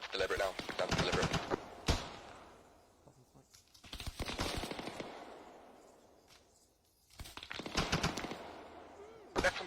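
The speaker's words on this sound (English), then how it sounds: "Got some sort of machine gun out to the east" Machine gun fire in ARMA 3 comes in three long clattering bursts of rapid shots, separated by short quiet gaps, with voices talking over the gunfire.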